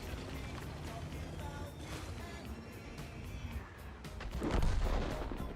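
Heavy booming blasts of artillery in World of Tanks roll over a constant rumbling din, one louder thump swelling near the end.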